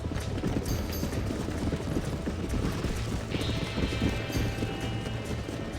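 Horse hooves clopping across ground in Red Dead Redemption's wild horse taming mission, a steady rapid gallop under a dense, loud wash of game ambience and rumble, with no talk.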